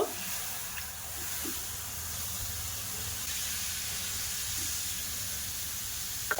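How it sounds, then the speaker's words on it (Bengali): Water tipped into a hot pan of roasted semolina gives a steady, loud hissing sizzle and steam rush that holds for the whole stretch, with faint clatter underneath. "এবার আমি ওই বাটির এক বাটি জল দিয়ে দেব"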